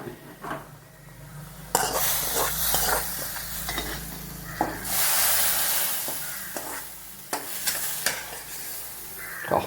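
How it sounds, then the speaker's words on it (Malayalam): Mustard seeds tempered in hot oil and poured into a spinach kuzhambu curry, giving a steady sizzle and hiss with stirring scrapes and a few clatters of a pan, close and fairly loud, with no talking. "ഇത് കടുക് മൂപ്പിച്ച് നന്നായിട്ട് ഇങ്ങനെ ചുവന്ന് വരുമ്പോൾ നമുക്കിതിൽ ചേർക്കാം."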